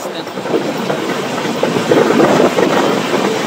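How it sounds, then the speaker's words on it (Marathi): Steady rumble of a passenger train moving along the tracks toward Miraj, with rhythmic clacking and hiss, fairly loud and continuous throughout. "प्रवास चालू बघा ट्रेन."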